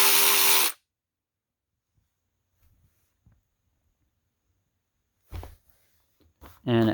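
A Durofix G12 12V cordless 3/8-inch extended ratchet wrench whirs in two short, loud bursts, one at the start and one at the end, with near silence between them.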